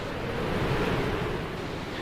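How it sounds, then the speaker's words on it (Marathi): Kumbhe waterfall in Raigad district plunges about three hundred feet, giving a steady, dense roar of falling water, broad and unbroken like heavy surf with wind, continuous and fairly loud throughout. "आमच्यासमोर होता तब्बल तीनशे फूट उंचीवरून कोसळणारा जलप्रपात याचे नाव कुंभे धबधबा"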